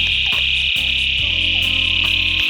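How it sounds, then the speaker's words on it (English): A night-time chorus of frogs and toads calls in low, pulsing bursts beneath a constant high insect drone. The sound is steady and fairly loud, and no one speaks. "As you can hear the frogs and toads just bustling around me."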